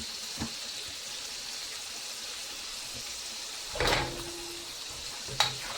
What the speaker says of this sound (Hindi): तो चिकन और प्याज जो है वो एक साथ हम फ्राई कर लेंगे